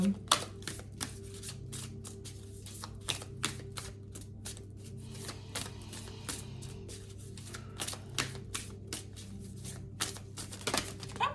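Oracle cards being shuffled by hand for a card reading, giving a steady run of soft, rapid flicking and riffling clicks close by, with no talking over it.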